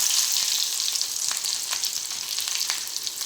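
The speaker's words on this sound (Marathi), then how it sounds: "कांदा छान लालसर होईपर्यंत भाजून घेऊया" Chopped onion crackles and sizzles in hot oil seasoned with mustard seeds and cumin for a potato curry, a steady, close, bright frying hiss with small pops throughout.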